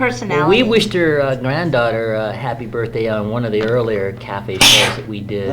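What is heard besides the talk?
sneeze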